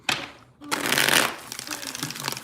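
Tarot cards being shuffled by hand, a short riffle then a longer, louder rustling shuffle lasting over a second, close up.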